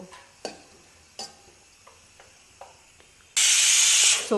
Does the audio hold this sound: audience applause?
no